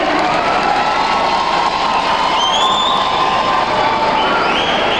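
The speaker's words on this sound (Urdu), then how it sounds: "آپ سب تالیاں بجا کر اس کا اظہار کریں" A large crowd at a ceremony marking Quaid-e-Azam's birthday in Pakistan claps and cheers loudly and continuously, with whoops and shouts rising over the steady applause.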